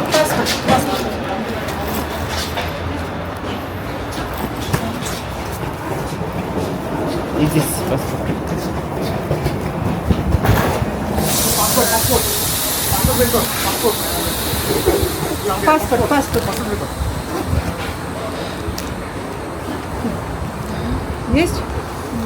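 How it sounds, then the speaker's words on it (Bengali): A train departing a station in Russia hisses and rumbles, with steady mechanical noise, a burst of steam-like hiss midway, and people talking throughout. "ট্রেন এখনই ছেড়ে দিবে"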